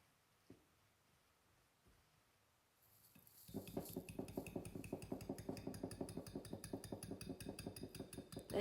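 Whisking gluten-free, dairy-free, low-sugar oatmeal cookie batter in a bowl: after a quiet start, a fast steady run of close, loud metallic clinks and scrapes against the bowl, with no talking.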